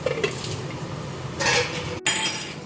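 A metal lid clatters onto a cooking pot of elephant foot yam and hilsa. Under a soft sizzle, a rattling clink is followed by a sharp, close clank as it settles, and no one speaks.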